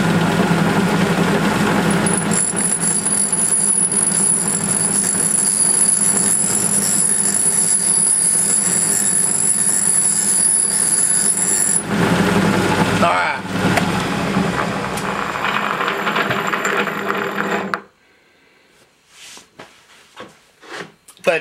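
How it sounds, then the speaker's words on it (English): A valve seat grinder set at 30 degrees cuts the seat of an Edelbrock E-200 cylinder head, giving a steady, close motor whine with a thin high tone for about twelve seconds, then rougher running before cutting off abruptly. "I've got the grinder set at 30 degrees."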